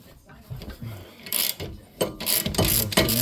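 A ratchet wrench loosens 10 mm bolts at the rear wheel of a Chevrolet Lumina during a wheel bearing replacement, with quick bursts of clicking close to the mic separated by short pauses.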